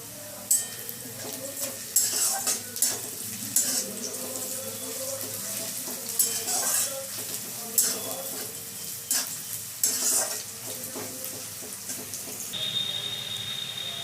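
Sliced onion with a spoonful of sugar fries in a pan for a green chicken dish, with steady sizzling and scraping stirring strokes throughout and some watery clatter, no talking.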